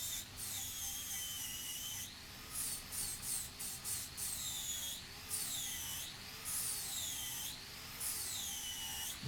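A coarse-grit flap disc grinds and polishes metal with a loud, high, whining hiss that repeatedly swells and dips as the disc is worked across the surface, with no talking.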